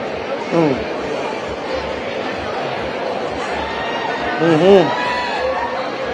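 A large crowd cheers and shouts for Vice President Sara Duterte of the Philippines at an event, a sustained roar with two louder swells and a voice calling out over it.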